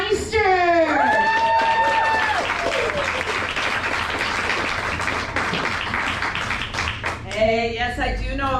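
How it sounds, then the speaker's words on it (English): A live comedy club audience applauds for a comedian being introduced, steady dense clapping and some cheering filling the room for most of the span, with a voice speaking over it at the start and end. "Let's give a big round of applause for Audrey Meister."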